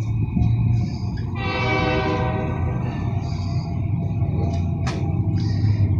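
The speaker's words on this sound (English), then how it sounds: "There is the train, I see it." A train horn sounds over a loud passing train at a nighttime railroad crossing, a long sustained blast in the middle over steady rumbling rail noise, with a brief sharp squeal near the end.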